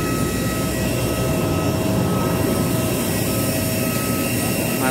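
A steady, loud roar of Batik Air passenger airplane engines idles before takeoff on the apron of a departure airport, a constant broadband drone with faint tonal whine and no break for five seconds.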